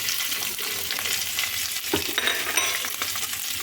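Capsicum and onions fry in a pan, a dense, even sizzle close up with a few soft stirring knocks partway through.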